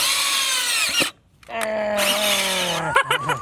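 A power drill whines at high speed, stops briefly, then spins up again, the motor pitch dipping and stuttering as it bites into material while drilling holes for fitting toy wheels to a real car.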